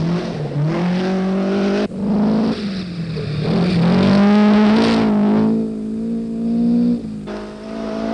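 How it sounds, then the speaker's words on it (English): A rally car races through forest on the 1977 Southern Cross Rally, its engine loud and close, climbing and dropping in pitch as it revs hard through gear changes. "on Wednesday saw Rano Aaltonen celebrating his victory with a tremendous burst of speed through the forests"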